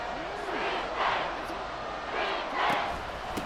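A stadium crowd in Madden NFL 24 roars steadily and swells in waves ahead of a big third down, with a commentator's voice running over the noise.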